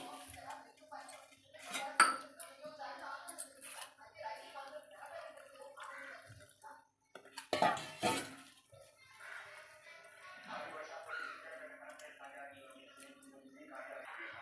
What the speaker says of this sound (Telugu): ఇప్పుడు ఈ అటుకులు ఇట్లా కడుక్కున్నాయి.